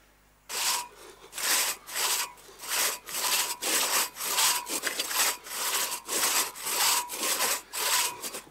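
A handsaw cuts through wood by hand after a chainsaw runs out of petrol: about a dozen steady, rhythmic rasping strokes, close and loud, with no talking.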